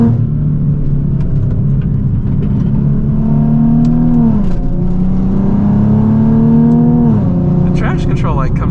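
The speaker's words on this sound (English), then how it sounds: "the downshifts are so aggressive" A Nissan 370Z Nismo engine snarls loudly through aggressive downshifts. The revs sweep and climb steadily, then dip and rise again with sharp blips, close and continuous.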